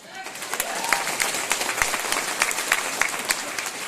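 An audience claps loudly for a mentor and coach at an RCM business event, with dense, steady applause and a few sharper individual claps standing out, filling the room for the whole stretch.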